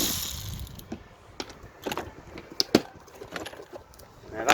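Torx screws being undone on an Alfa Romeo 147 wiper linkage: sparse ratchet clicks and small metallic ticks come at an irregular pace, close and fairly quiet.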